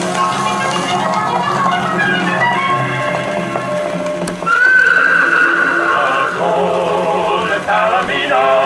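Horse neighing and whinnying from a children's western record about a wild golden palomino, a loud drawn-out call rising over busy music and possible hoofbeats, continuous through the passage.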